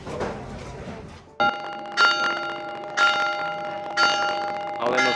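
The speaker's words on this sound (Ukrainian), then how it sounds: "встигли на дзвін вежі" A town tower bell in Calp strikes four times at even intervals, each ring loud and resonant with a lingering hum, after some faint background chatter.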